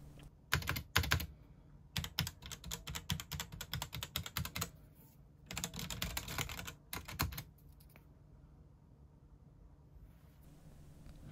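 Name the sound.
typing on computer keyboard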